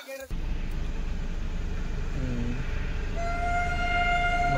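A Dhule-to-Mumbai passenger train passing close by in the morning, with a loud continuous rumble and rattle of wagons and a long tonal horn or whistle sounding near the end, no voices.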